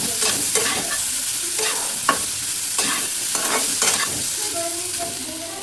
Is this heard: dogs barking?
no